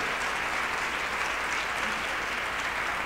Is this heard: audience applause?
yes